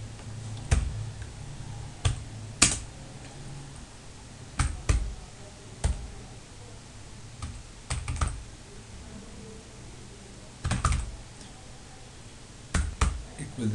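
Sporadic key presses on a computer keyboard while editing a Linux network configuration file, sharp isolated clicks and short bursts spaced irregularly over a faint steady hum, close and fairly quiet, no talking.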